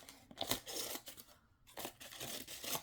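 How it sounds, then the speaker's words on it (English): Scissors snip and crinkle through craft material for a small pig figure, giving a run of close, quiet cuts with a brief pause in the middle. "then we'll cut this off"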